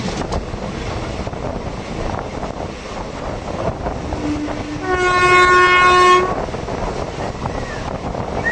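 A Konkan Railway monsoon passenger train from Mangaluru to Madgaon rumbles loudly into Udupi station, wheels rolling and wind buffeting, with a long, bright horn blast sounding for about a second midway.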